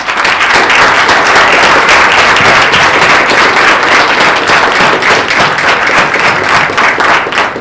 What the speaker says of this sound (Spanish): pido un aplauso para ellas